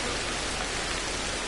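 Steady rain in the video game Ancestors: The Humankind Odyssey hisses evenly as a dense, uniform wash of falling drops, close and unbroken, with no voices.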